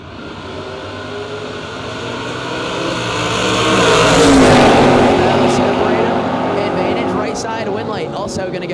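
Drag race cars, including a Camaro, launch and roar past at a footbrake bracket event. The engine noise swells to a loud peak mid-clip and then fades as an announcer talks over it.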